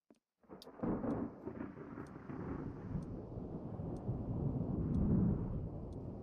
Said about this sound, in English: I like listening to the sound of storms.